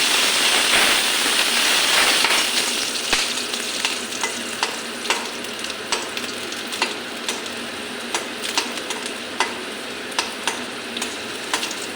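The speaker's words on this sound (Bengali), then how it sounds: "আর রসুনটা ভাজা করে নিই" Garlic and onion fry in a pan over lowered gas with a steady, close sizzle, punctuated by regular sharp clicks and taps of stirring throughout.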